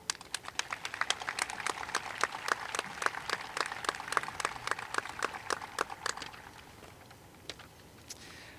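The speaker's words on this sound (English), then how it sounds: "Let's give these students a round of applause." A crowd at a high school commencement ceremony applauds graduating students with crisp, rapid claps that hold steady for about six seconds before tapering to a few scattered claps.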